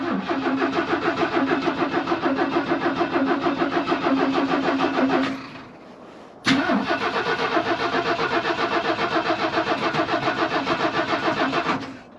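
A snowcat's engine cranks in a fast, loud rhythmic chug for several seconds, pauses briefly, then cranks again and runs on with the same close, pulsing rattle before cutting out.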